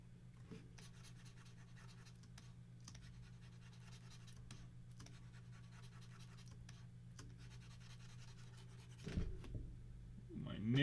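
A stylus nib scratches in steady strokes across a Wacom drawing tablet surface, a faint, close rasp over a low hum, with a short spell of louder handling at the end.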